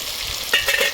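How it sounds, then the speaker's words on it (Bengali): Food frying in a pan and being stirred, a steady sizzle with a couple of louder scraping stirs near the end of a short moment, no voices. "এখন আমি নাড়ি দেবো।"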